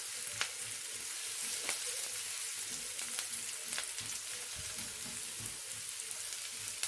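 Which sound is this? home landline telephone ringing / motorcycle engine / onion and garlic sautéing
onion and garlic sautéing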